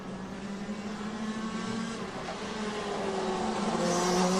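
Racing kart number 417 from Shapers Racing drives past during a kart race, its high-pitched engine whine holding steady and rising toward the end, fairly close and alone.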